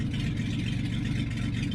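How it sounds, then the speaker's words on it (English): A Ford Aerostar van that sat abandoned for fifteen years idles on its own after a mass airflow sensor fix, giving a steady low engine rumble that is close and continuous. "it is idling on its own now. I do not have my foot on the gas."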